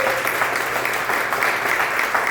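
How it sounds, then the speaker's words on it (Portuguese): A church congregation claps loudly and steadily for Jesus, a dense wash of many hands filling the room without a break and with no voices on top. "Aplauda Jesus bem forte."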